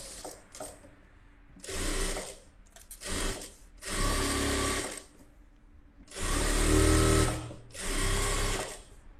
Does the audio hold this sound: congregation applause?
no